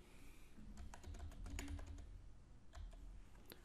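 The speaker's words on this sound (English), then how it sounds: "Now we'll go inside our terminal and type git init" The git init command being typed on a computer keyboard: a quiet run of close, crisp key clicks in uneven bursts over a faint background hum.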